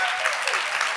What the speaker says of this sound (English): Hold your applause till you see if we deliver